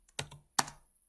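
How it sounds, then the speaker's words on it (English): Three quick clusters of keystrokes on a computer keyboard while entering Azure CLI commands, crisp clicks separated by short silent gaps. "you can start typing these commands"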